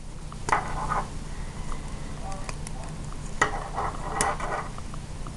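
Knitting needles clicking against each other while working yarn in a basic knit stitch, a few soft, irregular close-up clicks and rustles over a quiet background, no talk.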